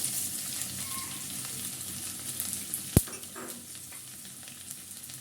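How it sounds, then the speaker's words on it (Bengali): Chopped onions fry in hot oil for a mixed vegetable dish, giving a steady, close crackling sizzle that runs throughout, with one sharp clink of a utensil partway through. "তেলটা একটু গরম হলে এক কাপ পেঁয়াজ কুচি দিয়ে দেবো"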